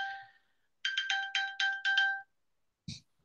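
A phone ringtone in a webinar plays a bright electronic melody in quick repeated pulses for a little over a second, then one short chirp follows.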